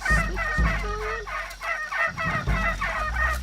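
Game birds squawk in Shadow of the Tomb Raider, a repeated run of harsh, pulsing fowl-like honks in steady bursts, fairly close and alone over a low background rumble.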